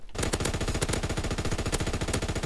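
Rapid automatic machine gun fire from Call of Duty WWII, a loud, continuous stream of tightly spaced shots with no pauses, close and dominant, with no talking.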